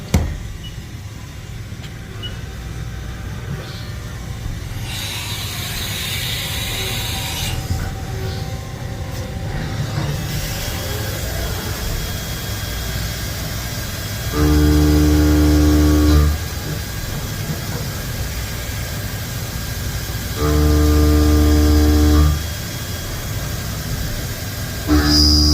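A 2011 Haas VF-2 CNC mill drives a 1/2-inch end mill through mild steel at 50 inches a minute and 1/8-inch depth, giving a steady machine drone with two louder, tonal bursts of cutting whine.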